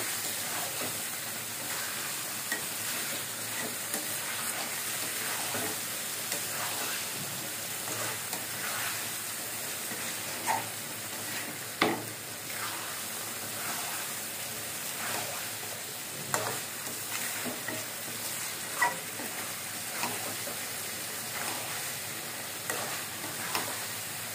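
Egg curry with a little ghee cooks in a pan, a steady soft sizzle and hiss with occasional stirring scrapes and clinks, fairly quiet and continuous with no talking.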